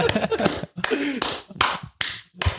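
A series of sharp claps sound amid casual talk and laughter, several bright percussive hits spaced through a few seconds on a podcast set.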